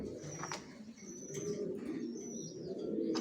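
Racer pigeons, including a grizzle pair, coo steadily in a continuous low murmur close by, with a few faint chirps above and no talk.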